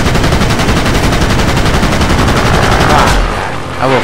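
Rapid sustained machine gun fire from a warplane in the World of Warplanes video game, loud and continuous for about three seconds before cutting off, with voices briefly audible.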